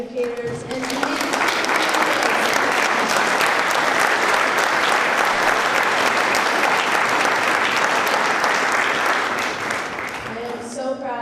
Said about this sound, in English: How about one more just round of applause for all of these amazing educators